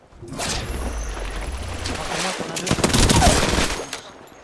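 Automatic weapon fire from Apex Legends swells into a loud, close stretch of rapid shots, mixed with other game noise and a possible voice underneath.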